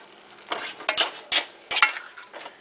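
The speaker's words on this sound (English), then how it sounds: "Now you mix all this till it's cooked" A spoon scrapes and stirs food with olive oil in a cooking pan, several distinct clacks and scrapes in an irregular rhythm, close and fairly quiet.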